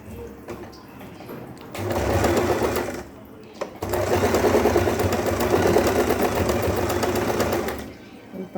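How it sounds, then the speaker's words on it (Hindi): A sewing machine stitches a petticoat seam in two bursts of rapid, loud mechanical whirring, a short run and then a longer steady one, separated by a brief pause with small clicks. "इसे सिलाई चलाते हैं।"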